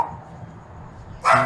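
Dog barking once in the background, a short sharp bark near the end of an otherwise quiet indoor moment.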